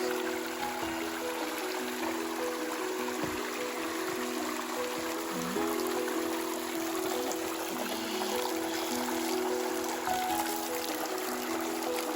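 Clear, fast-flowing stream water on a farm hillside, a steady broadband rush and trickle that holds evenly throughout with no talk over it.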